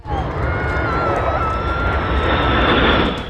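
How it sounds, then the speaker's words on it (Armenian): Red Arrows display jets of the Royal Air Force flying over London and Buckingham Palace, a steady loud engine roar with a slowly shifting tone that fills the whole span. "Արարողությունը եզրափակվել է թագավորական օդային ուժերի ավանդական ինքնաթիռների, հայտնի Red Arrows խմբի թռիչքով, Լոնդոնի երկնքով և Բուքինգհեմյան պալատի վրայով"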